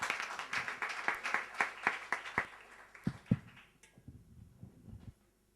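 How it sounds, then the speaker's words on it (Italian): Small audience at a regional Sardinian language conference clapping for a speaker, a short sparse round of claps that thins out and fades after a few seconds, fairly quiet and distant. "Un applauso ad Alessandro Gaia."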